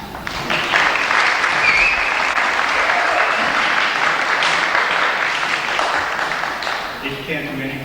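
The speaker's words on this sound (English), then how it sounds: "You may applaud." Audience applause at a band performance event, dense and sustained clapping from a large crowd that holds evenly and tapers slightly near the end, with some voices underneath.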